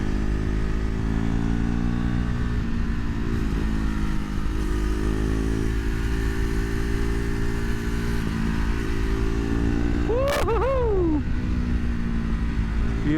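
A small KTM sportbike rides along a canyon road, its engine droning loud and steady throughout with a brief rising rev near the end, and no talking over it.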